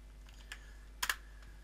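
Soft keystrokes on a computer keyboard in a quiet room: a light tap, then a quick double click, with a faint low hum underneath.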